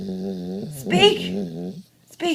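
A dog vocalizes on command with a drawn-out, whining howl that rises and wavers for nearly two seconds, close and loud, followed by a short burst of sound.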